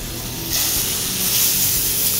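Tenderloin searing in a hot pan with butter, a loud steady sizzle and hiss that swells after half a second and keeps spitting close by without pause.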